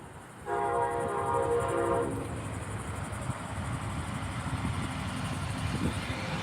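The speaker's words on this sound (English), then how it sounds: "You hear that train?" A fast passing train near a cemetery in Melbourne, Florida opens with a loud, sustained horn blast lasting about a second and a half, then a continuous rumbling roar of rail cars rolling by.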